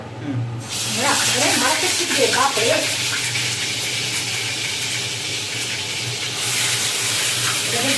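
Onion paste hits hot oil in a pan and bursts into a loud, steady crackling hiss that holds without pause, with a few soft noises early on.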